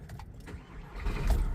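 A Mercedes Sprinter camper van engine starting: faint clicks and a jangle of keys, then a low cranking rumble that builds into the engine catching, brief and close.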